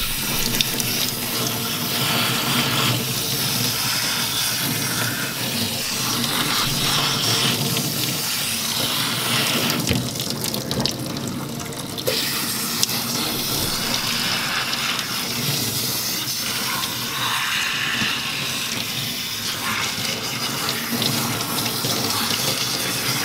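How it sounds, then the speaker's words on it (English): Water from a tap runs steadily and loudly as dyed hair is rinsed, a continuous close splashing rush with slight shifts in flow and no talk. "we are ready to rinse Aiden's hair of all this wonderful high lift dye"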